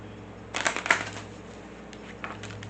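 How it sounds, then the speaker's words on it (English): An Egyptian gods oracle card deck is shuffled once, giving a quick riffle burst of close, crisp card flutter, then a brief soft rustle later in a quiet room with no voices. "They only ever want me to shuffle this one once"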